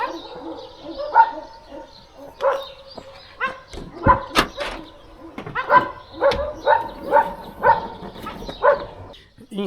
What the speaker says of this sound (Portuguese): Os cachorros estão demais hoje.